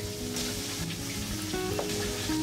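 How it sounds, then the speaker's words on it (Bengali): Bhetki fish bones coated in salt and turmeric frying in hot mustard oil in a kadai, a steady, soft crackling sizzle heard up close with faint background hum and no talk. "তেল গরম হয়ে এলে নুন হলুদ মাখানো মাছের কাটাগুলো ভেজে নেব।"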